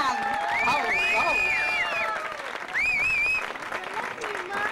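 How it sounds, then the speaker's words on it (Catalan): An audience at a country line-dance contest applauds four dancers, clapping and cheering heard beneath a lively crowd with whistles and excited voices rising over it. "un aplaudiment ben fort, perquè han aguantat fins al final"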